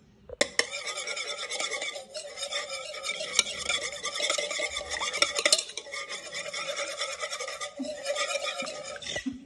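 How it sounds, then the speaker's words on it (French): A whisk scrapes and clatters rhythmically in a bowl as milk is beaten into egg yolks for Japanese pancake batter, a steady close-up stirring with brief sharp knocks against the rim. "on va venir mettre le lait dans les jaunes d'œufs. Et on va venir mélanger."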